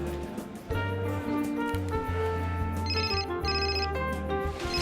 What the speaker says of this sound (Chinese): 不好意思啊，接个电话。